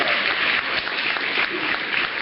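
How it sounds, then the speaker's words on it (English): A studio audience at a talent showcase gives a continuous round of applause, a dense, even wash of clapping that holds steady from start to finish. "Give him a nice round of applause, everybody."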